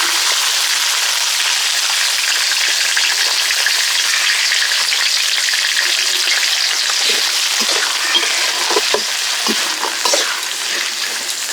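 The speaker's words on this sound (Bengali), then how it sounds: "বরবটি দিয়ে 1 মিনিট হালকা ভাজার পর গাজর দিয়ে দিব।" Long beans fry in hot oil with bay leaf in a pan for flattened-rice pulao, making a loud, continuous sizzle with a few stirring scrapes toward the end.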